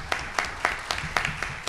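An audience at a Civic League for Regional Atlanta meeting applauds, with sharp, evenly spaced claps over a soft background wash, moderately loud and free of speech.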